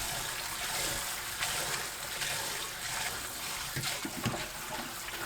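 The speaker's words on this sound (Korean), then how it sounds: "2분 후 체에 거르고 물에 헹굽니다." Running water pours and splashes steadily as blanched lotus root, boiled briefly with vinegar, is drained in a sieve and rinsed, a close, continuous wash with a few sharper clatters toward the end.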